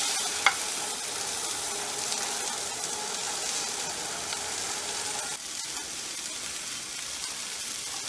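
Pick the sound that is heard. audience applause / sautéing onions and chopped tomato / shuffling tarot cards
sautéing onions and chopped tomato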